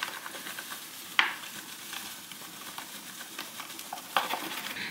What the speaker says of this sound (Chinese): 调一个面糊